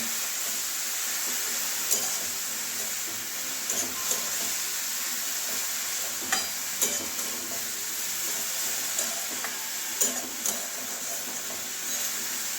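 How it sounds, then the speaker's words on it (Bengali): Grated carrot frying in ghee gives a soft, steady sizzle and hiss with occasional stirring taps, close but fairly quiet, no talking. "এবারে ভালো করে ভেজে নেবো ঘিয়ের মধ্যে"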